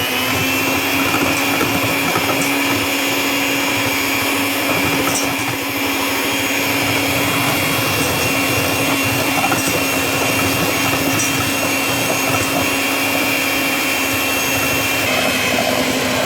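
Coffee butter is beaten by an electric mixer, producing a loud, constant motor whine with a steady hum that runs unbroken throughout.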